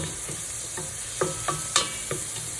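Onion and garlic sautéing in butter and olive oil, a soft steady sizzle broken by a few light clicks of a spoon stirring in the pan, close and fairly quiet, with no voices.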